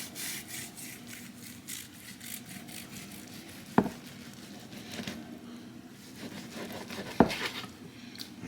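A knife sawing through slices of a small prime rib roast, soft rasping strokes repeated steadily, with two sharp knocks as the blade hits the board, close and fairly quiet.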